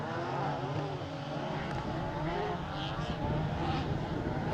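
RX150 rallycross race cars bouncing across a loose surface in the British Rallycross Championship final, with engines droning and revving at a distance under a busy, steady background.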